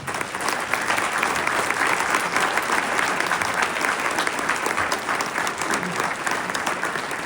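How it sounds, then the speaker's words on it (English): An audience at a county teacher awards ceremony applauds an achievement award winner with sustained, dense clapping that fills the room evenly for several seconds. "I'd like everybody to give a round of applause to Tracy Parker"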